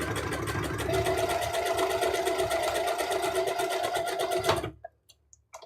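A sewing machine stitches a buttonhole with a rapid, steady mechanical whir and needle chatter, close and loud, stopping abruptly near the end and leaving a few faint handling taps.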